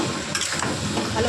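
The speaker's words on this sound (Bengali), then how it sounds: "কাবলি ছোলা দিয়ে এটাকে ভালো করে কষে নেব।" Kabuli chickpeas sautéing in a pan for a vegetarian curry, with a continuous loud sizzle and hiss plus faint scraping of stirring, no voices over it.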